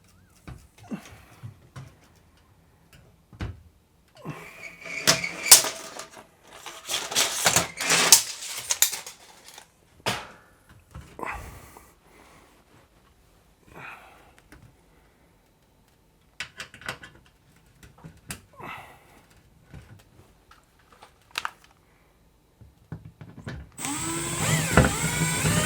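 A small impact gun drives screws to mount an LED light housing, firing in short, intermittent whirring and rattling bursts separated by quiet pauses and light handling noises.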